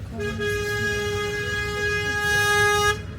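A loud, sustained train horn blast holding one steady harmonic tone for about three seconds, then cutting off abruptly.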